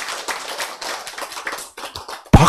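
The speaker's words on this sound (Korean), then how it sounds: "박수 치는데 올인 해야라니까." An audience at a health lecture claps together in a dense, steady burst of applause for about two seconds, ending in one sharp loud clap.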